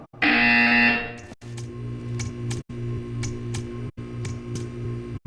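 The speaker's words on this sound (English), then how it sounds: "You will hear a buzzer. When you hear the buzzer, stare at the art." A loud electronic buzzer sounds once in the Portal 2 video game, a harsh tone lasting about a second, then gives way to a steady mechanical hum with faint periodic clicks.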